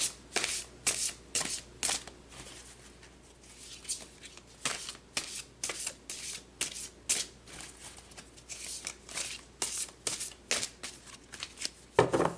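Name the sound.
shuffling tarot cards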